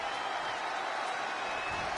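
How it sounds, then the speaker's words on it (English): A wrestling arena crowd in the WWE 2K20 video game breaks into sustained applause and cheering, a dense, even roar of clapping that holds steady throughout with no voices on top. "The WWE Universe is showing their appreciation for the action they're seeing."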